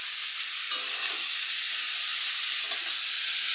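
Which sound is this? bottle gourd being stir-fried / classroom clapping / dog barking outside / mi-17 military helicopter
bottle gourd being stir-fried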